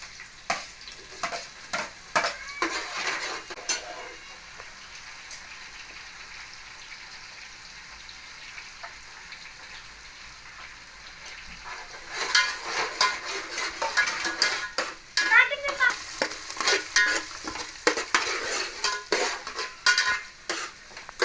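Tomato and coriander go into a pot of bean rice, then a spoon stirs with an irregular clatter against the pot over a low sizzle, louder and busier in the second half, with no talk.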